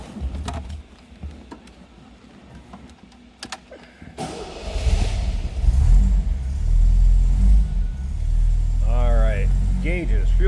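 A 1977 MG MGB convertible cranks and its engine catches around four seconds in, then settles into a steady, close rumbling idle, with brief chime-like tones near the end.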